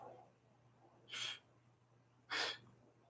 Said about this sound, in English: You hear? Sneezing.